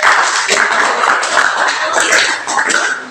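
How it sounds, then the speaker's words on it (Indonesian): A small group claps in a room, a short, uneven burst of applause up close that lasts a few seconds. "Tepuk tangan untuk kelompok 2."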